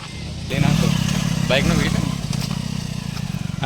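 A motorcycle engine rumbles close by with a pulsing, throbbing note as the bike rides past, loud and steady throughout.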